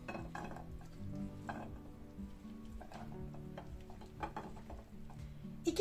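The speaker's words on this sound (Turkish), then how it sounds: "Sosum her yerine gelecek şekilde karıştırıyorum." Spoon stirring tahini sauce through an Antalya-style white bean salad (piyaz) in a bowl, making repeated soft wet scrapes and clinks at a steady pace, close and fairly quiet, with no talking.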